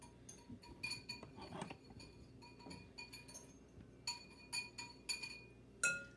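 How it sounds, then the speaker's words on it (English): A metal whisk beats flour, sugar and salt together in a bowl, making quick bright clinks in bursts with short pauses between them. The sound is close and quiet, with no talk. "So the first thing we're going to do is just whisk all of our dry ingredients."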